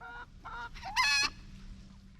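Farm turkeys give a few short clucking calls close by, then one louder, higher call, with no talk.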